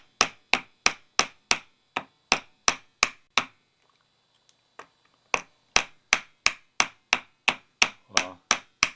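Sharp, evenly spaced hammer blows strike in a steady rhythm, about two per second, pausing briefly for a few seconds before resuming.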